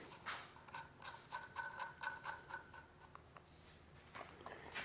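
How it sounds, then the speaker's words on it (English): Ratchet wrench clicking as a bolt is loosened and tightened again while assembling a Jansen MB 500 model, with quick bursts of close, light mechanical clicks and pauses between them. "take this bolt off him. And then go ahead and slide the boot up. And then put the bolt back on."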